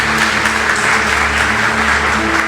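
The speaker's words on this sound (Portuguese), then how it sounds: "Vamos aplaudir Jesus em forte." Steady, dense applause from a church congregation during a Sunday worship service, loud and continuous throughout with a low hum underneath.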